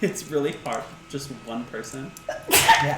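A single sharp, loud sneeze bursts out near the end, right after a stretch of people talking casually.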